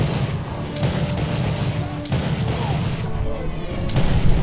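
Rapid gunfire in The Darkness II rattles in loud, repeated bursts across the whole stretch, with a voice talking underneath.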